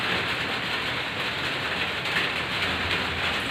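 Steady rain falls at a construction site where lightweight brick walls are being plastered, a dense and even hiss of drops on surfaces throughout, with no voices.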